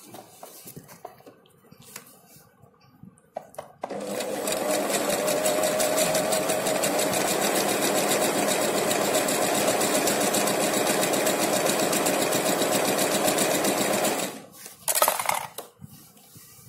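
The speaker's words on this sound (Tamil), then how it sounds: "நெக்ஸ்ட்டு நம்ம இப்போ ஸ்விங் பண்ணலாம்" A Singer 3221 sewing machine runs steadily for about ten seconds, a fast even mechanical whir and clatter up close, with light handling clicks before and after.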